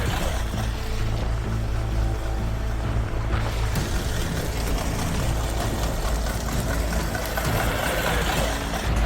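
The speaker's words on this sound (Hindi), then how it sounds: "रिम पर ही फॉर्च्यूनर कार को फुल स्पीड में दौड़ा रहा है।" A Toyota Fortuner driven at full speed on its bare rim after a tyre burst, a steady loud engine and road roar filling the whole stretch, with a scraping metallic texture.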